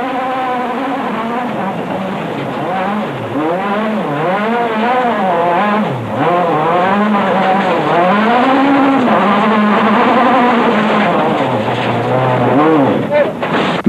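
Renault Megane Maxi rally car at Rali Oliveira do Hospital 1999, its engine revving hard and repeatedly rising and falling in pitch, loud and close, with people shouting over it.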